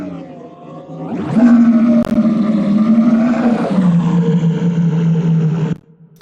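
Main layer of a sci-fi vehicle engine effect: a loud, harmonic, growling hum that surges up after a second, holds with a slight pitch shift, then stops abruptly near the end.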